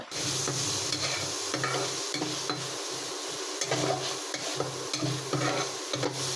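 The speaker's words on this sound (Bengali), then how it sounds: "পেঁয়াজ, মরিচ এবং সবজি ভালোভাবে ভাজা হয়ে গেলে এর মধ্যে নুডলসটা দিয়ে দেব।" Boiled noodles are stir-fried in a pan with onion, chilli and vegetables. A constant hiss of frying sits under repeated scraping stirs of a spatula against the pan, close and with no speech.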